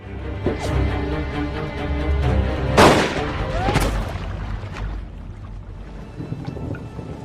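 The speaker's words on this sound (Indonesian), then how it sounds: "Namun ternyata dia harus meregang nyawa ditembak Krug and the gang." Gunshots ring out in a tense film scene: two sharp, loud blasts about a second apart over a low, rumbling background, with faint voices around them.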